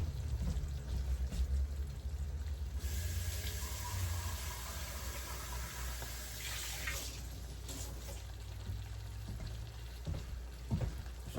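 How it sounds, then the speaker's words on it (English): Cold water runs from a tap and pours into a half pack of mix, a steady hiss and gurgle that lasts for several seconds before tapering off, with no voices. "And then this one you want to add your water."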